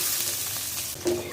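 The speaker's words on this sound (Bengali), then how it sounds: "আমি পেঁয়াজটা একটু ভালো করে ভাজা দিয়ে নিচ্ছি।" Two onions fry in oil for a beef-trotter nehari, a close, steady hissing sizzle with a small stirring scrape near the end.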